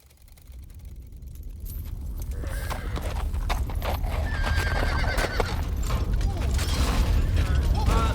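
Horses gallop with rapid, loud hoofbeats that build in intensity, mixed with whinnies and creaking, clattering equipment.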